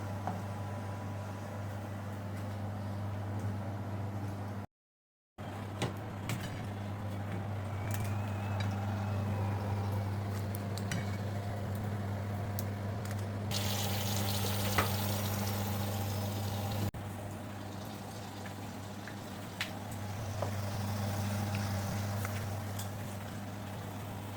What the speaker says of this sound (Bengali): আর একটু ভালো করে ভাজা হয়ে যাক তারপরে আমি তুলবো